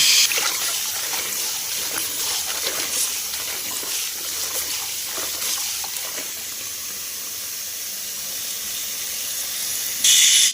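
Kharkol leaves are washed under running water, a steady close hiss of flowing water that continues throughout with soft splashing and rustling, louder at the very start and end.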